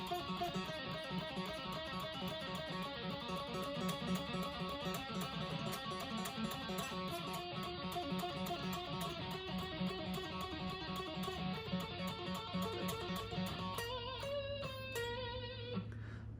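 Metal remix guitar solo bridge played as a steady run of fast, continuous pull-off notes over a dense full-band backing, loud throughout, with the texture shifting to sparser sustained notes near the end.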